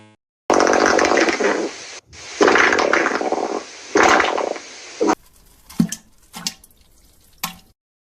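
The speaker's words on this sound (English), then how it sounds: "That's how that farting sound effect sounds like." A farting sound effect made by pushing with the stomach muscles: two long, loud, raspy blasts with a short gap, then a third blast, followed by several short sputtering pops and squeaks.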